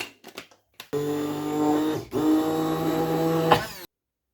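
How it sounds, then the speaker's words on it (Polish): A blender making strawberry ice cream with mascarpone whirs loudly and steadily for about three seconds, pausing briefly in the middle, after a few clicks and knocks. "Odpalamy blender."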